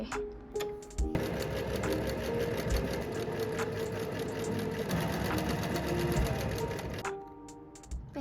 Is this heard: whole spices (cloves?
no